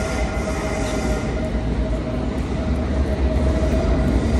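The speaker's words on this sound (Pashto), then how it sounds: "دې خواته دا اورګاډي روان دي که نه دغو سیمو ته." London Underground Metropolitan line train running with a steady, loud low rumble and rail hum throughout, a constant close rolling roar with faint tonal whine and no talk.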